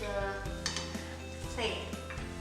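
A Korean zucchini pancake, hobak jeon, slid from the pan onto a plate, giving a few light clinks and scrapes of utensil on dish, soft and close, under a speaking voice.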